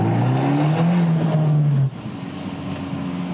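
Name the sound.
Abarth 124 Spider engine with Record Monza exhaust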